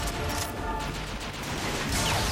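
Continuous heavy gunfire and battle noise from Transformers: Fall of Cybertron as Decepticons board a ship, a dense, loud wash of weapon fire with no breaks.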